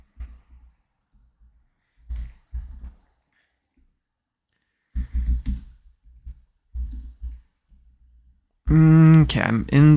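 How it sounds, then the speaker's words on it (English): Short bursts of clicking computer-keyboard typing come in separate clusters over several seconds, close and fairly clear, then a person starts talking near the end. "It's so hard typing with injured fingers."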